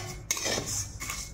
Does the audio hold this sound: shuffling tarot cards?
no